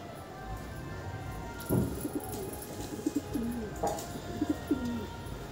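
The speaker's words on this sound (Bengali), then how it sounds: "তো এই একটা কালশিরা ব্রিডের পায়রা, খেরা কালশিরা।" A Kalshira breed pigeon coos in soft, repeated low calls over a steady hiss of room noise, with a couple of sharper knocks in between and no talking.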